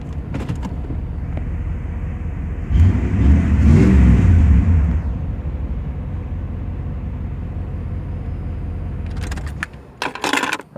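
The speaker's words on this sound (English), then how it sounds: "I've always been a big V8 fan. I love the sound of V8s." A 1995 Chevy Camaro Z28 with an LT1 V8 idles with a low burble, then swells into a single short rev before settling back, followed by a few clinks near the end.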